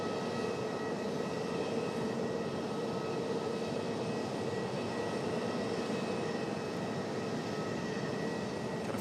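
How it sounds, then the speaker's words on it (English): A six-year-old FedEx Boeing 767 freighter arrives at Raleigh Durham International Airport, its jet engines producing a constant, broad roar with faint tonal whines, steady and loud from start to finish. "767 coming up next. 6-year-old freighter for FedEx."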